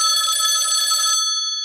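A telephone ringtone plays a bright, steady electronic ring, loud and close, cutting off near the end with a brief fading tail; no talking.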